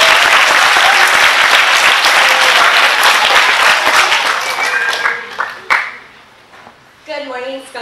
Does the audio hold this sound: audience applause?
yes